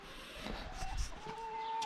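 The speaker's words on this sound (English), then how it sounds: "Sneaky chickens, they get inside when you're not looking." Chickens cluck softly nearby in a few scattered, quiet calls over faint background noise.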